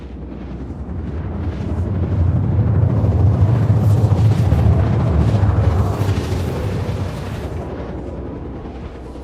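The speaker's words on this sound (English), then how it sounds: "Somebody's shooting missiles at me?" Missiles exploding during a space battle in a video game: a sustained rolling roar of distant blasts that swells in the middle and fades, heavy with low rumble and no voices.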